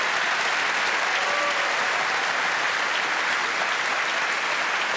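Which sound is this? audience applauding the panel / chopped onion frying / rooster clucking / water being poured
audience applauding the panel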